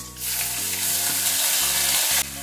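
Soaked moong dal for a lau ghonto tips into a hot tempering of dried red chilli and oil, setting off a loud, steady sizzle that shifts in pitch as the lentils land and settle, then drops sharply at the end.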